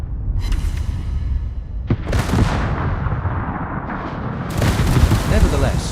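Warship guns in the World of Warships game fire at an enemy destroyer as a series of deep, heavy booms, with rumbling blasts and sharp cracks following closely, loud and dense.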